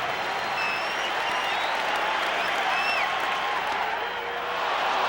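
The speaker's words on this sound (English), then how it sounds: "The crowd going wild." A packed stadium crowd at a 1988 NLCS Game 7 with the Dodgers roars and applauds wildly, a loud, sustained wall of cheering with shrill whistles cutting through it.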